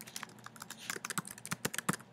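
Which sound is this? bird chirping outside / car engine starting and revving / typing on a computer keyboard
typing on a computer keyboard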